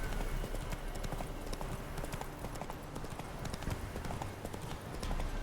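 Roach the horse trots along a road in The Witcher 3, hooves clip-clopping in a steady, continuous rhythm close by, with faint game ambience underneath and no voices.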